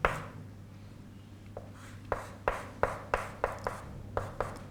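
Chalk tapping and scraping on a lecture-hall board in a quick series of distinct strokes, close and moderately loud over a faint steady hum, with no talking.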